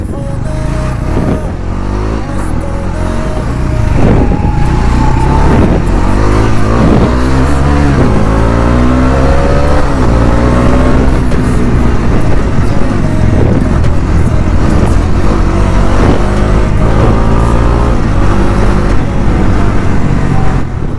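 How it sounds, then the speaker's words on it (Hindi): Bajaj Dominar 400 motorcycle engine idling then revving repeatedly, loud and close with rising and falling engine tones throughout, someone speaking briefly. "साउंड का बहुत ज़्यादा कमी हो रहा है इस बाइक में"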